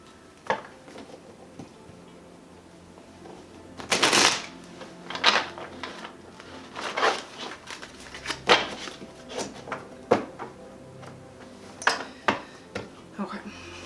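Glossy tarot cards being shuffled by hand, giving a series of crisp riffling and slapping bursts at irregular intervals, fairly close and moderately loud over a quiet background.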